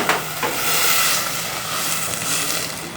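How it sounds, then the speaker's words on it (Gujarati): Hot tempering hisses and sizzles as it is poured over freshly steamed khaman at a Gujarati farsan shop near a bus stand. The sizzle is a steady, close, loud spray with a couple of sharper crackles near the start. "ખમણ પર અત્યારે વઘાર થાય છે"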